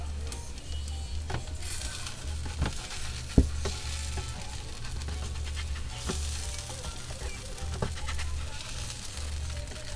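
White potato balls fry in a pan while a spatula scrapes and pries them loose, sharp scraping clicks over a steady sizzle and low background hum.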